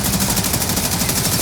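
Rapid automatic weapon fire from Warframe, shooting at an enemy hive, a dense continuous burst of fast cracking shots that runs loud and steady without a break.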